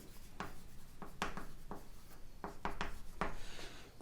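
Marker or chalk strokes scratching across a classroom board while an arrow is drawn, a series of short, distinct scraping strokes with brief pauses between them, close and fairly quiet with no talking.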